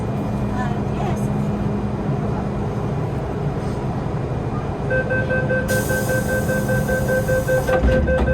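Hong Kong MTR first-generation CM-Stock M train running on the Island Line between Kennedy Town and Chai Wan, a steady loud rumble of wheels and motors with a rising whine and hiss near the end, people talking faintly underneath.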